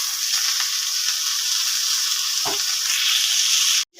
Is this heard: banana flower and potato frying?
yes